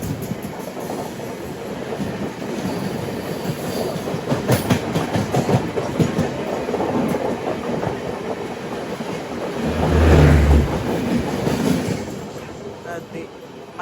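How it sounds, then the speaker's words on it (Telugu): A MEMU passenger train runs between Rajahmundry and Godavari station as the Gurudev Superfast Express 12659 from Nagercoil Junction to Shalimar crosses it, with steady rumble and clickety-clack of wheels, a loud whooshing surge of the passing train near the end. "Gurudev super fast express Nagercoil junction నుండి షాలీమార్ 12659 ఫస్ట్ క్రాసింగ్"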